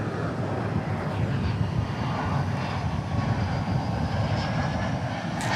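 Jet airliner arriving from Midland at Dallas Fort Worth airport, a steady loud engine roar that holds evenly throughout with no voices.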